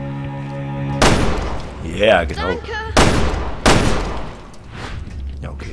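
Several loud, sharp gunshots in Resident Evil Revelations 2 with echoing tails, spaced about a second apart, mixed with brief electronic effects and a voice speaking briefly in German.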